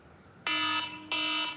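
The iPhone ringtone called Alarm sounds two loud, harsh electronic bursts, each lasting about a third of a second and separated by a short gap, with nothing else heard.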